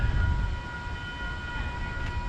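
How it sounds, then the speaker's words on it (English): A steady, sustained rumble with faint ringing tones above it, railroad crossing gate bells at the Pawling, New York train station as a train draws near. No voices. "as you can hear from the crossing gate bells, there's a train coming"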